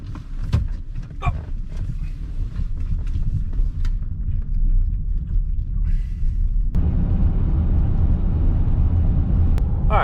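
A 2013 Ford Edge driving on a road, a steady low engine and road rumble from inside the cabin that swells slightly louder partway through, with faint clicks and no talk.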